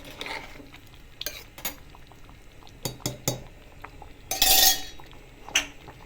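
A spoon stirs seven-grain khichdo in a metal pot, giving scattered clinks and scrapes against the sides, with a few louder knocks and a brief burst of scraping, all fairly close and quiet.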